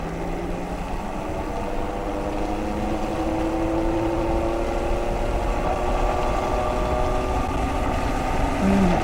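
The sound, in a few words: Super Soco Wanderer electric motorcycle accelerating uphill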